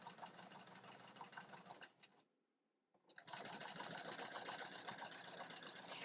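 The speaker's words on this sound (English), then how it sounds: "stitching diagonal lines every 3/8 of an inch" A sewing machine stitches diagonal lines on quilted hot pads, with close, rapid even whirring that stops briefly for about a second, then resumes steadily.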